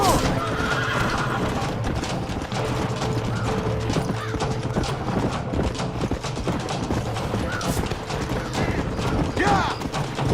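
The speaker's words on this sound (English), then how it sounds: "Get away from them horses!" Horses neigh and whinny in the Western video game Red Dead Redemption, mixed with close clip-clopping hooves and mechanical clatter, loud and busy throughout.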